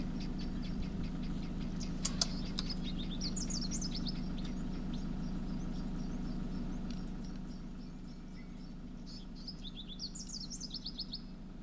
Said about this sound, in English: There's a firefinch down there,